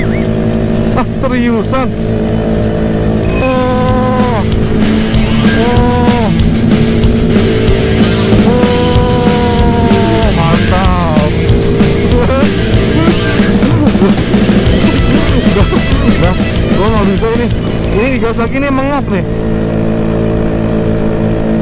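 Supra 250cc motorcycle on a test ride, its engine revving and droning loudly throughout with rising and falling pitch through gear changes, while a rider talks over it.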